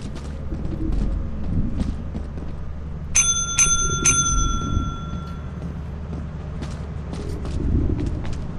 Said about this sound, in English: You need to ring the bell a few times for it to activate.